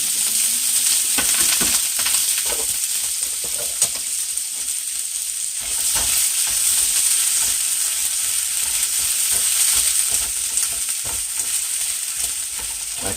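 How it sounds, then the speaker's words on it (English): Vegetables sautéing in a pan beside frying sweet potatoes, giving a loud, steady, close sizzle that runs throughout, with occasional stirring scrapes and no voices. "I'm going to saute those until they're glistening"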